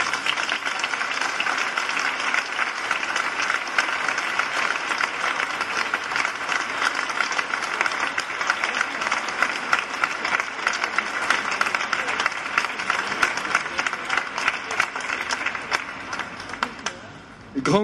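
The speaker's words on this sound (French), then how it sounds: "un dernier applaudissement pour eux." A church congregation applauds at a solemn Mass for the Assumption, a dense, sustained clapping that fills the space steadily for most of the span before tapering near the end.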